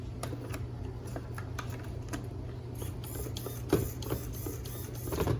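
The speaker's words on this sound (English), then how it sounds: "but the servo is working." The steering servo on a Traxxas E-Revo RC car runs with a faint steady mechanical hum, broken by light clicks and ticks, heard close in a quiet room without talking.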